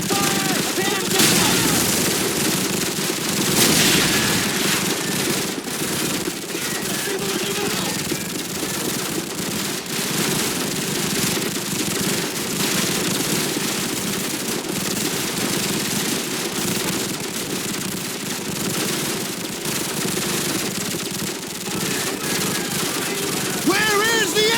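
Dense, continuous gunfire and explosions from the 2007 video game Call of Duty 4: Modern Warfare, with rapid bursts and loud blasts layered over each other throughout, mixed with shouting voices.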